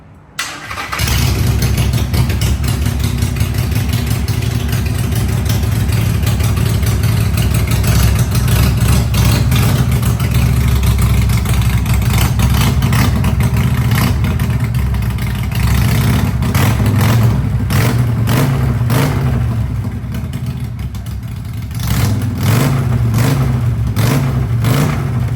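A large United Autos chopper motorcycle engine starts and runs steadily for the whole stretch, a loud, close, continuous low rumble with a few revs toward the end.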